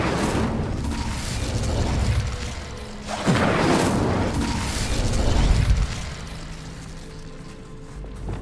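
An Incendio fire spell cast in Hogwarts Legacy bursts with a heavy whooshing boom, then swells into a roaring rumble that fades away, with no voices.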